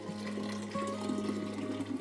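Hot tea poured from a pitcher into a glass refrigerator dish, a steady close liquid splash and trickle with a faint hum underneath, lasting about two seconds.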